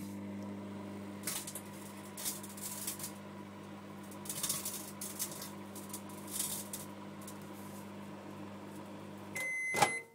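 A microwave oven runs with a CD inside, its steady hum broken by repeated crackling bursts of sparking, then several loud beeps near the end.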